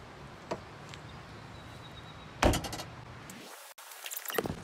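The tailgate of a Chevrolet Suburban with a 6.5 diesel swings shut with a single solid thud and rattle, followed by a sharp click, against a quiet outdoor background.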